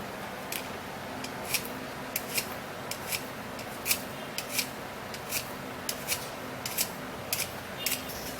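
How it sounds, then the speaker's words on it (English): Soft, crisp scraping clicks from peeling a skincare ingredient by hand, quiet and close, arriving in irregular short strokes about every half second with little else around them. "I'm gonna be peeling this up, and this is actually the first ingredient"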